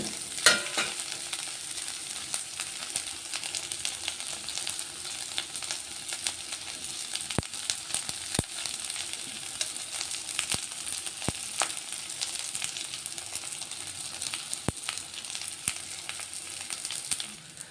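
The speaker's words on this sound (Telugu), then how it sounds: "ఇదంతా ఒకసారి మంచిగా ఫ్రై అవ్వాలి" Boiled chickpeas fry in a pan with a soft, constant sizzle that runs throughout, and occasional sharp ticks and scrapes from stirring sit underneath, moderately quiet with no talk.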